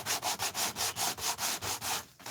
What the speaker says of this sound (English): she sands her pieces. It takes some of the shine off, and it also just gives it more grunge